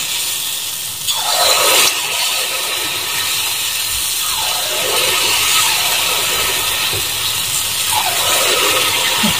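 Sweet bhaji batter fries in hot oil for a village deity bhandara feast, giving a loud, continuous hiss and bubbling crackle with repeated bursts as pieces go in.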